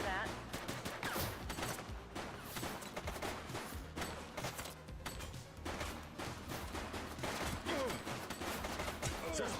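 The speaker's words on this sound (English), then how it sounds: "Shots fired! 10-13, officer down!" Rapid bursts of gunfire fill a shootout in the police video game The Precinct, loud and continuous with dense volleys throughout, mixed with game sound and voices.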